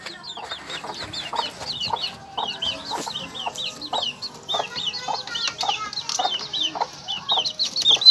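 Backyard hens and roosters of a scaleless-leg breed cluck steadily in a busy, continuous chorus, with overlapping calls near and farther off and no talking.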